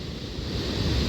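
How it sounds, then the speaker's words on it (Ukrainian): Atlantic Ocean surf off Tenerife roars in a dense, low rumbling wash with a steady deep hum underneath, loud and close, no voices. "От шум хвиль це само собою, а він іще гуде."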